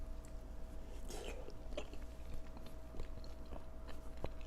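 Close, quiet chewing and biting of salmon sashimi dipped in soy sauce, soft wet mouth sounds with a few brief crunchy bites over a steady low room hum, no talking.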